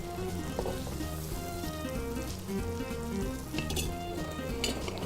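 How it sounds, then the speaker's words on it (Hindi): Okra dropping into a hot pan with crushed white cumin, a steady dense sizzle of frying that fills the whole clip at even loudness, with faint stirring clatter and no talk. "सारा मिक्स करके मैं भिंडियाँ डाल रही हूँ इसमें।"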